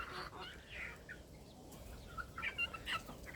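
Bantam hens and roosters in a backyard cluck and squawk softly, with a few sharper calls near the end, as people talk quietly nearby.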